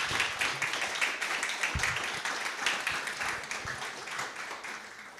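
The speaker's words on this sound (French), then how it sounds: "On peut leur applaudir peut-être ?" A small audience at a motion-design meetup claps for a few seconds, a dense patter of hands that stays fairly steady before easing off, with no speech on top.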